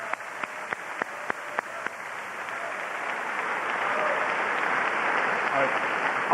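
Audience applause at a lecture on the new war against terror: a few sharp early claps grow into sustained, steady clapping from a large crowd, with talk in the background.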